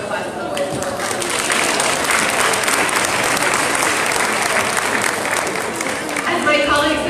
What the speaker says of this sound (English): let's give a round of applause to the Boys and Girls Club